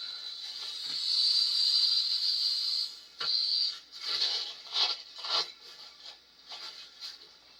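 Air hisses from a flat front tractor tire on a 1953 Farmall Super C in a shop, first a steady loud rush, then a series of shorter uneven bursts as the flow sputters and weakens.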